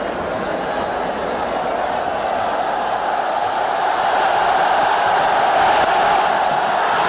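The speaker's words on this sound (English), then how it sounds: "The crowd are really enjoying this onslaught from both these batsmen" A large cricket stadium crowd roars and cheers after a big six, a dense, continuous wash of noise that swells slightly louder toward the end.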